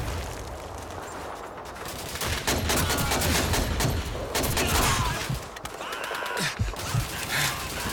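Machine gun fire in the video game Doom Rampage, dense repeated bursts of automatic shots with a battle din throughout, loud and continuous with brief lulls.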